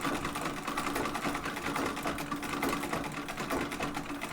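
Treadle sewing machine stitching down the sides of tote bag straps, a fast, even mechanical chatter with a steady rhythmic pulse, close and moderately quiet, no voices.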